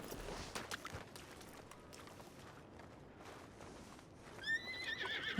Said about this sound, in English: It's a pretty horse.